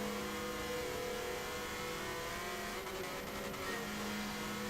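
Onboard engine of a BMW M3 race car during an FACR M3 race, a loud, steady mid-pitched drone with constant tyre and wind roar and no pauses.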